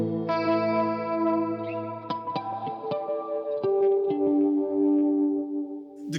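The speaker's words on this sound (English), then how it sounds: "that's like a huge chorus sound" Electric guitar with a huge, spacious chorus effect plays sustained chords and single notes, shimmering and wide with reverb, with clear picked attacks as the notes move downward.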